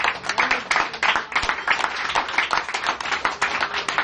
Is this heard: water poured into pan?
no